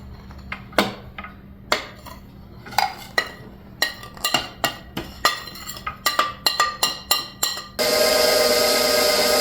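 Sourdough discard bread dough being mixed in a bowl: repeated clinks and knocks of a utensil against the bowl in an uneven rhythm, then a steady mechanical whir at the end.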